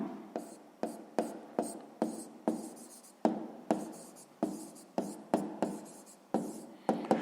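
A pen writes out a math solution on paper in a quiet room, giving about a dozen short scratchy strokes in an uneven rhythm, each starting sharp and fading quickly, close and fairly soft.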